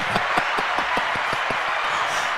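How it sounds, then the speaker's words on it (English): Applause sound effect fired from a soundboard button on a talk show, a steady wash of clapping with distinct sharp claps standing out, continuous for a couple of seconds. "We need the applause button."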